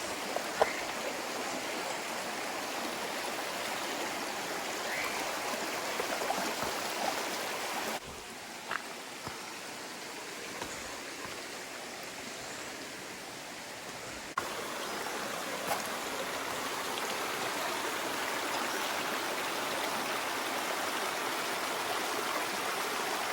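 Water flows through a forest stream near the Nagalapuram and TP Kota waterfalls, a soft, even rushing hiss that stays steady and fairly faint throughout, with no voices.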